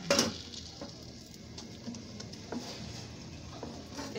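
Pakoras frying in hot oil for kadhi pakora, a soft, steady sizzle and patter with occasional light clinks of a utensil against the pan.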